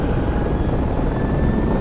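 Helicopter rotor thrum from the game Project Reality, a steady dense broadband drone that stays loud and even throughout, as if heard from close by or inside the chopper.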